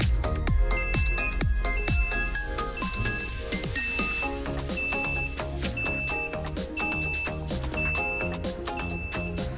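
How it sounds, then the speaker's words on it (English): Repeated high electronic beeps from a LoRa E32 433T30D module connected to an Arduino, in a regular pattern, mixed with a busy tonal background, continuing steadily for the whole stretch. "it start beeping."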